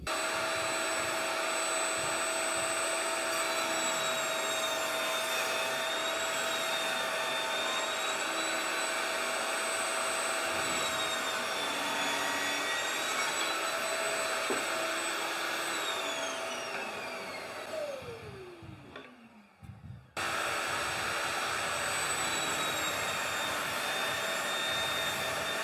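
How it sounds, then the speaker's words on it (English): Evolution RAGE5-S table saw running loud and steady while cutting timber, a whining motor drone that holds for most of the stretch, then winds down as the blade spins to a stop, followed by a brief gap and the motor starting again. "Push the timber all the way through the blade and beyond until it passes through the table saw."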